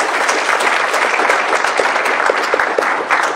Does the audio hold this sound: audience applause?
yes